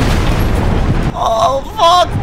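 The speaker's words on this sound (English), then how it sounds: "Explosion shook my head." A loud video game explosion opens with about a second of dense, rumbling blast noise, followed by voices talking over a lingering low rumble.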